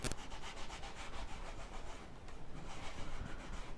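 Paint being rubbed off a clear-coated planner cover, a steady scratchy rubbing with short repeated back-and-forth strokes, close and fairly quiet, no voices.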